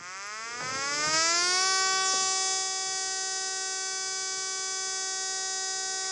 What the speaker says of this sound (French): je vais vous faire écouter le signal d'alerte à la population